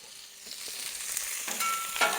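Fried rice sizzling in oil on a hot flat griddle, a soft continuous hiss that builds slightly toward the end, with no talking.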